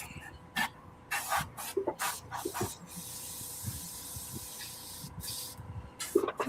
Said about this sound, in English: I'll use a little 4021 to clean out the airbrush.